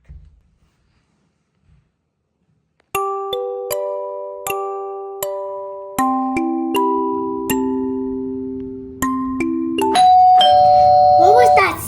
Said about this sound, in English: I think it was the doorbell.